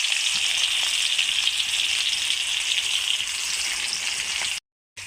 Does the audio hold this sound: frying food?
yes